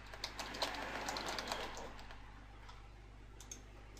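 Fingers type text on a computer keyboard, a quiet, quick patter of small key clicks over a steady low hum, with no one talking.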